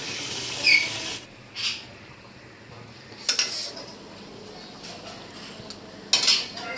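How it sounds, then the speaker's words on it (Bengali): Spice paste for malai curry is stirred in a pan, with four separate scraping clinks of a utensil against metal spaced a second or two apart over a quiet background. "মালাইকারিটা বানাবো বলে এখানে হচ্ছে মশলাটা কষাচ্ছি।"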